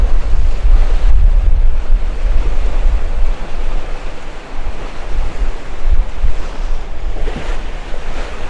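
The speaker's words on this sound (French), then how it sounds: "Elles sont pas mal hein, les vagues." Loud, continuous rush of ocean waves and wind noise buffeting the microphone, steady throughout with occasional swells of surf, heard from a sailboat sailing from Saint Lucia toward Martinique.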